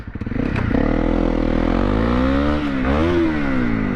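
A Honda CRF dirt bike revs up close and pulls away, the engine climbing from a few sputtering bursts into a loud, sustained buzzing drone that rises and dips in pitch.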